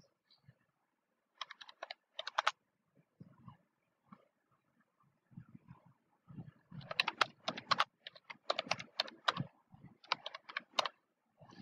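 Typing on a computer keyboard during an English grammar lesson: scattered bursts of quick, crisp key clicks with pauses between them, fairly close and without speech.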